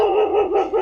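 A dog at a shelter gives one loud, close, sustained bark or howl that wavers slightly in pitch, filling the whole short moment without any voices.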